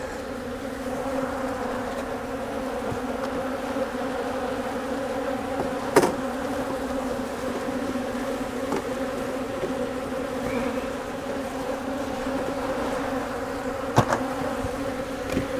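Honey bees swarm around an open brood box during a spring hive inspection, a dense, steady droning buzz close by with a couple of sharp knocks from handling the equipment.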